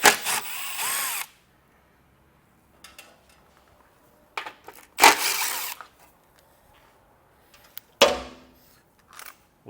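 A power tool removes 10mm nuts from the bumper beam of a 2021 Jeep Grand Cherokee, with several short, sharp whirring bursts separated by quiet gaps and faint clinks.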